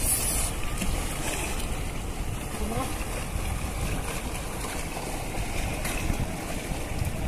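Boat on the water near a river, heard as steady wind and water wash close to the microphone throughout, with faint voices in the background.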